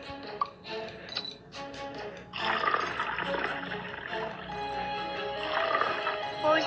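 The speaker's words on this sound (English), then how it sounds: "Pour some lemon juice in the first bowl." Lemon juice pours into a glass bowl, a thin trickle that swells into a steady liquid splash after a quieter start and keeps running to the end, faint and close.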